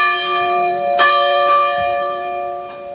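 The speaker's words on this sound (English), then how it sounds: "the first time that you were able to hear this bell ring" A bell near Main Street Arcade, heard at an athletics fundraiser car show, is struck once loudly and then rings on with a sustained, shimmering tone, followed by a couple of fainter strikes as it decays.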